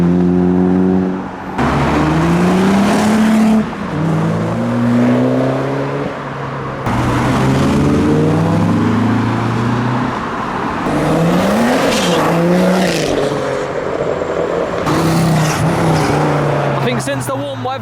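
Modified cars pull away from a Japanese car meet, engines revving and rising in pitch as they pass close by one after another, with brief tire squeal and people talking in the background.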